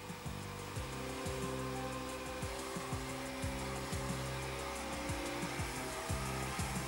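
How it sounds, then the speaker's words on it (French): An orbital sander chamfers a scratched plastic car body part, a steady high-pitched whine with rhythmic pulsing and repeated dips in pitch as it works the surface, close and continuous with no talking. "chanfreiner avec une ponceuse orbitale"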